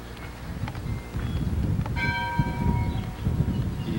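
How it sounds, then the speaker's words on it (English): A bell rings out clearly over a loud rumbling, rattling background like a moving train, the clanging tone sustained for about a second. "Ease up on the bell"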